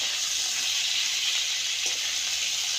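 Cauliflower florets and potatoes, drained of water, are frying in hot mustard oil, giving a steady, even hiss and sizzle close by with no talking.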